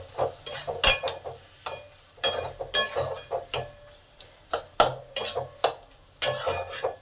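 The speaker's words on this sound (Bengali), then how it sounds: "এবার সব একসঙ্গে ভালো করে কষে নেব।" A spoon stirs and scrapes in a pan as spices, chopped tomato and ridge gourd peel paste are sautéed, giving intermittent clinks and scraping strokes in an irregular rhythm over a faint sizzle, close and quiet with no talking.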